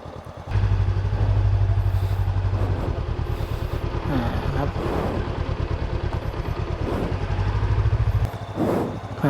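A motorcycle engine runs close by for the whole stretch, a steady low rumble with rising and falling revs as the bike pulls away, plus some clatter and mechanical noise over it.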